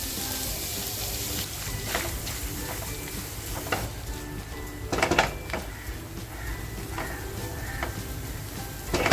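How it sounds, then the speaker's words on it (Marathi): Sliced onion dropped into hot oil in a pan, a dense continuous sizzle with scattered clicks and scrapes as it settles and is moved, no voices. "तेल छान तापलेलं आहे त्याच्यामध्ये हा जो कांदा कापून घेतला तो कांदा टाकते"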